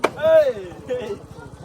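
A bamboo stake is pounded into a riverbed while a bamboo bridge is built by hand over the Se river: one sharp wooden knock at the start, then voices talking.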